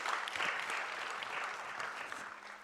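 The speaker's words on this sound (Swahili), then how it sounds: "Tupigie makofi kwa mara nyingine tena." Audience applause at the launch ceremony of a logistics and transport professionals' association, a continuous patter of many hands clapping, even and moderately distant, with no talk over it.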